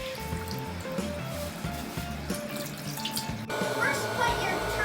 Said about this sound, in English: Before doing kitchen work, wash your hands with soap and water.